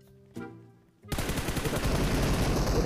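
Gunfire in a video game: a brief tonal sound, then from about a third of the way in, dense rapid bursts of shots that keep going loud and close until the end.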